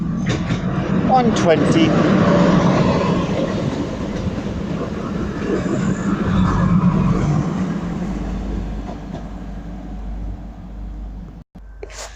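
A Class 158 diesel train passes through Durham station, a loud rumbling roll with rhythmic wheel clatter that slowly fades, while someone talks over it.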